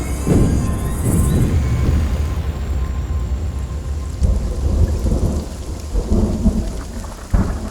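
Heavy monsoon rain pours down steadily on forest while thunder rumbles and cracks, with a louder crash near the end; no voices.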